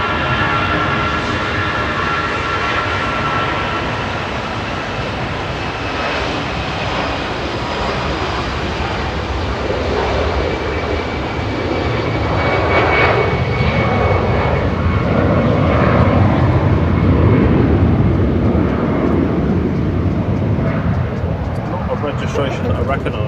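An EasyJet airliner departs Manchester Airport, its jet engines roaring steadily and growing louder toward the latter part, with a person talking over the noise.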